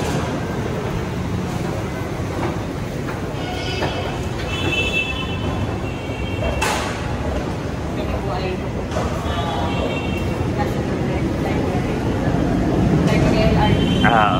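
A light rail train rumbles steadily through a station in Manila, with a constant roar and metallic squeals, people talking over it at moments.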